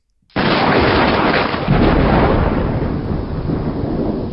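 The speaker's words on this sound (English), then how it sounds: "the lightning." A thunder-and-lightning sound effect opens with a sudden loud crack, then rolls into a heavy, sustained rumble that stays strong for several seconds and slowly eases off, with no voices.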